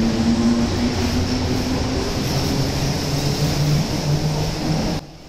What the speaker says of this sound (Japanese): 長堀鶴見緑地線では70系という車両が活躍しています。